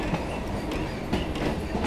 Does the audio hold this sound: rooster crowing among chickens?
no